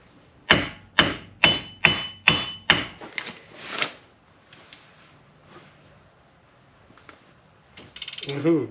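A socket wrench on an extension turns a wheel hub bolt on a Pontiac GTO, giving six loud, evenly spaced ratcheting clicks up close, then quieter scattered clanks and handling noises.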